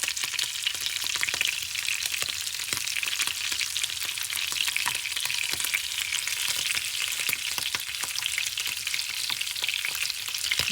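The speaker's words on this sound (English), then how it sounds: "You don't really need to fry it for long." Cretan xithato loukaniko, a smoked Greek sausage, fries in a pan with a steady, dense crackling sizzle that holds evenly throughout, close and moderately loud with frequent small pops and no voices.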